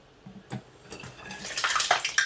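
Hot water poured into a pot of Nigerian stockfish and merluzza stew, a brief splashing pour that starts with a few small knocks and builds into a louder, bright gush over about two seconds, with no speech.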